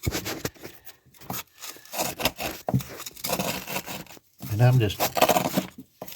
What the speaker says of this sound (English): easily breaking it out of there with a screwdriver